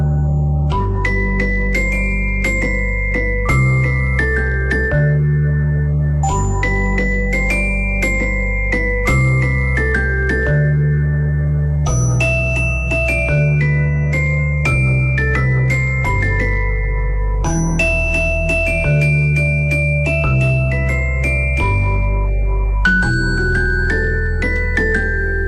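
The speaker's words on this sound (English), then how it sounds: "Here's today's Classic Rock Lullaby." Gentle music-box style lullaby rendition of a classic rock song, with bright chiming bell-like notes over a soft steady bass, playing continuously and clearly throughout.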